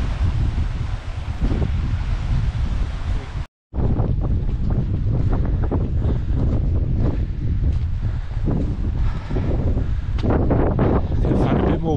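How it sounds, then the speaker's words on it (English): Strong wind gusts buffet the microphone on an exposed hillside path at Jacob's Ladder on Kinder Scout in the Peak District, a loud continuous roar with a brief silent gap near the start, no talking. "Gonna find a bit more wind over this side, I think, as we come around this corner."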